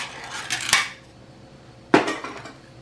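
A can of refried bean dip is handled and opened, giving two sharp metallic clinks and scrapes about a second apart, close and clear with quiet in between.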